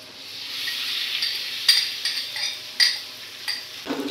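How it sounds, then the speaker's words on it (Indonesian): Egg frying in a tablespoon of margarine in a pan for Indonesian fried rice, a steady close sizzle with several sharper spatter bursts and light utensil clinks near the end. "Sekarang saya masukkan telurnya."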